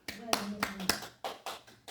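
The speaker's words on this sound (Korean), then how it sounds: "그 예수님 앞에 감사와 영광의 박수를 드려야 되겠어요, 안 되겠어요?" Church congregation clapping in praise: a handful of distinct, sharp hand claps in a loose, uneven rhythm, fairly quiet and close, with a faint voice beneath.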